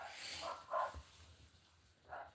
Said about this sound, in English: Dogs are barking at the Invisible Man